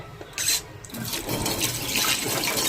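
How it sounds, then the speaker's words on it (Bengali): Tap water runs and splashes as fish is rinsed in a kitchen sink. After a brief burst, a steady close gush continues under the sound of the hands working the fish, and no one speaks. "তো মাছটা আগে ধুয়ে নিই"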